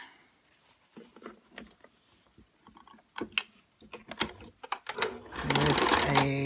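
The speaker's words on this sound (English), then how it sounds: "I'm going to take this face piece and sew that rounded edge right sides together" A sewing machine stitches the rounded edge of a fabric face mask, starting with scattered ticks and short runs, then breaking into a loud, fast, continuous whir near the end.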